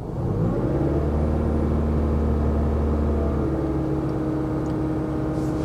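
A car engine revs up as the throttle is pressed during a scan tool test, a steady loud hum climbing slightly in pitch and then holding at a higher drone, with no speech.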